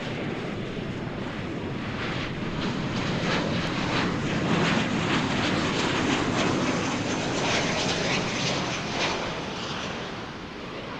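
A fixed-wing airliner, the Boise flight, at DFW Airport roars loudly and steadily through the whole stretch, a broad continuous jet engine rumble with no one talking over it.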